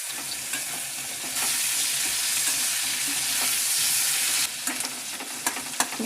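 Chopped onions fry in oil in a pan over lowered gas, a dense continuous sizzle with occasional stirring clicks, close and steady, with no one talking.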